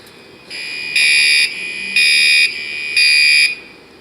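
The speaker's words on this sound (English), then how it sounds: "Fire alarm panels in the band classroom, and these gotta be Spectre Alert Classics." Spectre Alert Classic fire alarm in a school band classroom, loud close electronic horn blasting in a steady temporal pattern of three half-second pulses.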